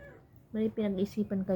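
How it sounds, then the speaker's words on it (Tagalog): A cat meows close by in a quick series of short, strident calls, about five in a row, each following a brief quiet lead-in. "Tuy, makagat ka ng pusa."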